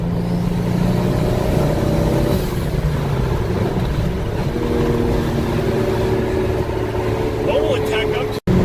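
Car engine revving and pulling hard, a loud continuous droning tone that rises and shifts pitch under ongoing excited conversation, ending in a brief cutout.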